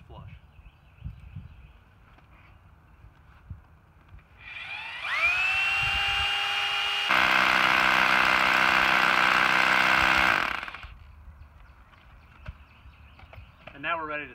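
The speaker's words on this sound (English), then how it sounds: "We've got an STS Plus hammer that I'm going to drill in." An STS Plus power hammer drill spins up, then pounds steadily into concrete for several seconds with a loud rattling whine before winding down; quiet background noise around it.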